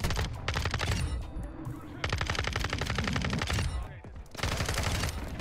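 Gunfire in a first-person shooter video game using a hip-fire weapon: rapid, close automatic bursts in three long runs with brief gaps between them.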